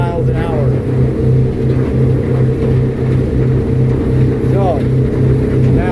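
A motorboat engine at about 30 miles an hour hums loud and steady, with a pulsing low throb, and a voice talks briefly underneath.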